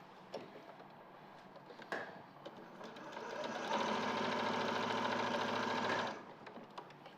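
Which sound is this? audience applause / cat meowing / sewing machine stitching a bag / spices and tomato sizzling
sewing machine stitching a bag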